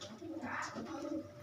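Teddy pigeons in a home loft coo in a low, rolling murmur that runs steadily throughout, moderately close, with no talk over it.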